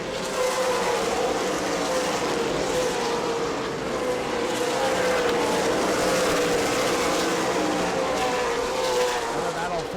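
Race cars roar around the track at a New Smyrna World Series event, a steady loud engine drone with a rising pitch carried through, under a commentator's voice.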